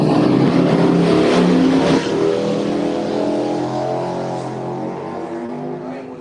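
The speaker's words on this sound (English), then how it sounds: "It's 2 motorcycles at the light." Three Harley-Davidson motorcycles pulling away from a traffic light, a loud, close, deep rumbling engine roar that swells then gradually recedes into the distance.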